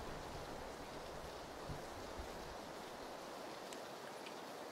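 Steady, dense hiss of rain falling in the PUBG battle royale game, a continuous even wash of noise with no distinct drops standing out, holding at a constant level throughout.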